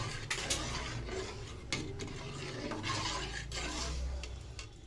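Rice being stirred in a pot for payesh, a Bengali rice pudding, with soft scraping and clinking strokes of a spoon against the pot, irregular and close, fairly quiet with no talk.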